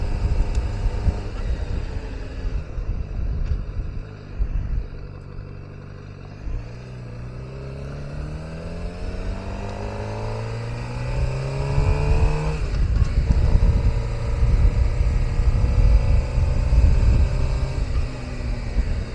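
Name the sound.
Suzuki GSX-R motorcycle riding past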